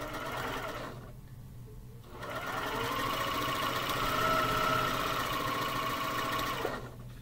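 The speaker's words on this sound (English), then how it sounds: "So I'm just going to chain piece all these to make it quicker" A sewing machine runs continuously while chain piecing cotton quilting fabric, a steady close mechanical whir with a brief pause before the stitching resumes.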